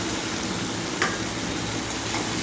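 Spice paste with cumin, ginger and tomato paste being sautéed in a pan, a steady close sizzle with a single light scrape of a spoon.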